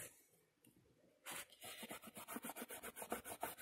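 After a quiet start, an eraser scrubs pencil marks off cardboard in quick, even back-and-forth strokes, close and crisp.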